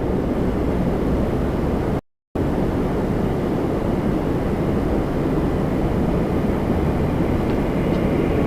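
Boeing 777-300ER of Air Canada at Toronto Pearson airport, a steady broadband jet roar lasting throughout, loud and continuous with a brief dropout near the start, no talk over it.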